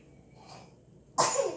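A single abrupt, breathy burst near the end like a close sneeze, following a quiet stretch with only faint sounds.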